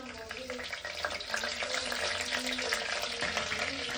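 Curry leaves frying in a pan while sambar is cooked, giving a steady close sizzle with some clatter throughout, with faint voices beneath.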